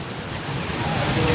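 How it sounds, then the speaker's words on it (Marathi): Heavy rain pours down in a steady, dense broadband hiss that holds an even level throughout this brief stretch, with no other sound standing out. "आणि पाऊस पण लय जोरात येतो."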